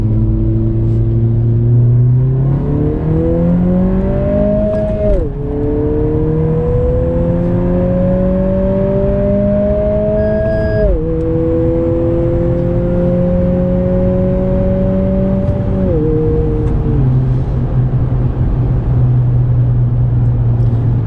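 A 2020 Honda Civic Si in sport mode accelerates hard from inside the cabin, its engine note rising steadily through three long gear pulls, each broken by a brief drop at the shift, loud and continuous throughout.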